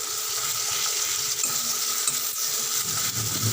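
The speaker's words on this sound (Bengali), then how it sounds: "রসুন বাটা দিয়েছি, দিয়ে এবার ভালো করে ভাজা করে নেব।" Garlic paste sizzles in a hot pan while being stirred, making a continuous hissing fry with light scraping and faint metallic taps throughout.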